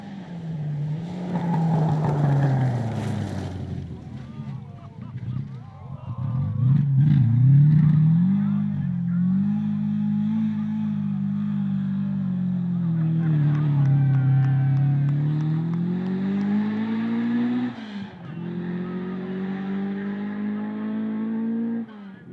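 A Ford Escort rally car races along a special stage at a 2WD round of the 2021 New Zealand Rally Championship in South Canterbury, its engine loud and close, rising and falling through gear changes and revving hard throughout.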